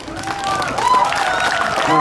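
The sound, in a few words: audience applause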